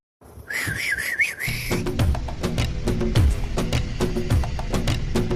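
A person whistles loudly and close by, first a short warbling trill, then a steady tune over rhythmic thumping music.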